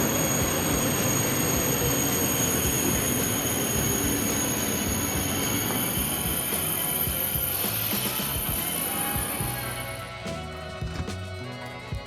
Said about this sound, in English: here's my train to Paris